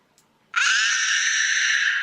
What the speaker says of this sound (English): So that's a female scream.